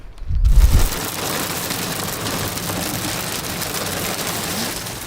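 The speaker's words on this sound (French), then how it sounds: "on est en train de se taper une averse de grêle" A dense, steady patter of hail drumming on a car hood during a hailstorm in Morocco, continuous and close, after a brief thump at the start.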